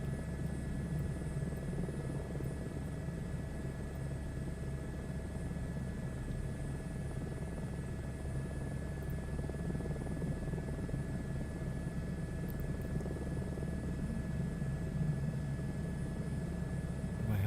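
Steady, continuous drone of a helicopter in flight, an even rotor and engine roar that stays constant throughout with no breaks or voices.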